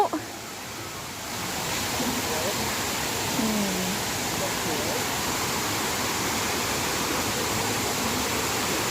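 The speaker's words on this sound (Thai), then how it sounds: "ก็มีน้ำตกน้ำพุ" Waterfall and fountain in a park in Sangkha, Surin, Thailand: a continuous broadband rush of falling water, steady and fairly loud throughout, with faint voices in the background.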